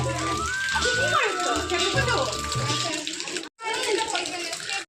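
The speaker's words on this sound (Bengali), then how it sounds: "জল পড়ছে" Water runs with a steady hiss underneath as voices, including a child's, talk over it close by, and the sound cuts out briefly near the end.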